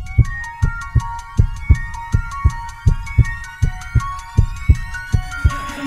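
A heartbeat sound effect in a podcast jingle: a regular, loud double-thump pulse repeating about every third of a second, layered over a sustained musical tone with no talking.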